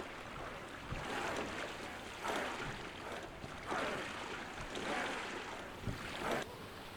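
A sailing ship crosses the open sea in the video game Expeditions: Viking, with steady wind and soft rushing water broken by rhythmic swells of waves breaking against the hull every second or so, faint and unaccompanied by talk.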